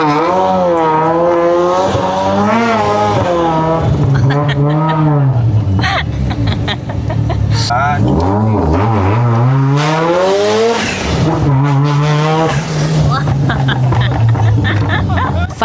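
A 550 horsepower two-rotor rotary drag race car accelerating hard under boost, its loud engine note rising and falling through gear changes at close range, with voices talking over it.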